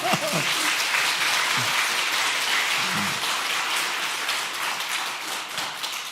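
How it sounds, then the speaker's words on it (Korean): A church congregation at a Sunday afternoon service claps loudly and continuously, a thick, rain-like wash of many hands with a few faint voices underneath. "샘 부리지 말고 박수 좀 세게 치세요"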